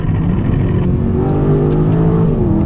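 An Aston Martin DBX SUV engine revving loudly and steadily up close, a deep rumbling exhaust note with a rising, throaty drone.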